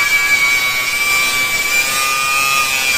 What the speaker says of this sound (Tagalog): Grinder naman, grinder.